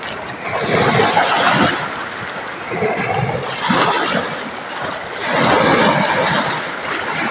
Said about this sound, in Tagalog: Po, kaya malakas po ang alon.